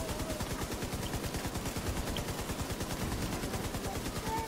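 Gunfire in the shooter The Division 2, a steady rapid automatic burst rattling continuously at an even rhythm, fairly close, with no talk.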